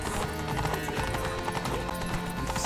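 Roach, Geralt's horse in the Witcher 3 game, gallops in a fast, steady clip-clop of hooves over a dense, loud bed of game music and ambient noise.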